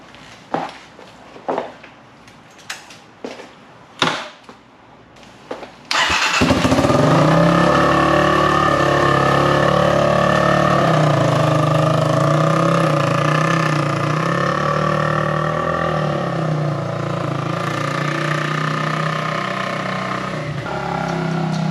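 A rebuilt Kawasaki KLX250 motorcycle engine starts up after a few scattered knocks and clatters, then runs steadily and loudly at a rough, slightly uneven idle close by, with no talk over it.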